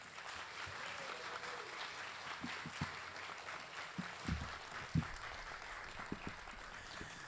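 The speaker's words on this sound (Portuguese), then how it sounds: "Uma salva de palmas, gente." Audience at a Brazilian literary panel applauding an author, sustained clapping across the room with occasional louder individual claps and faint voices mixed in.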